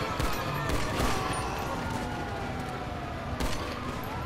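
Pistol gunfire in a shooter video game, with loud sharp shots over a dense, constant game soundscape of rumble and wailing siren-like tones.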